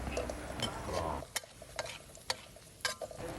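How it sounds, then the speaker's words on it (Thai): Garlic fries in vegetable oil until crisp for a stir-fried cabbage with fish sauce, a soft sizzle at first, then a quiet pan stirred with sharp scrapes and clinks coming at irregular intervals. "เจียวกระเทียมให้กรอบนะครับ"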